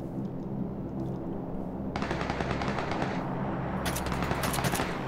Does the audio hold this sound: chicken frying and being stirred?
no